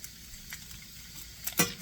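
Bacon fries crisp in a pan with a low steady sizzle, broken by a few light scrapes and a sharper clink of a utensil against the pan near the end.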